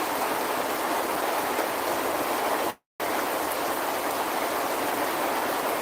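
Heavy rain pours steadily, a dense, even hiss that drops out for a moment before resuming just as strong.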